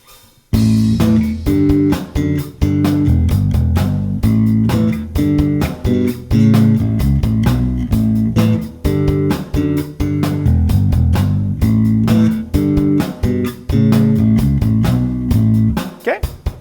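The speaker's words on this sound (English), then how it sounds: "the first riff makes use of some simple power chords and thirds and sounds like this" A bass guitar plays a chunky riff in A of short, punchy power chords and thirds in a steady driving rhythm, loud and close, with brief gaps between phrases.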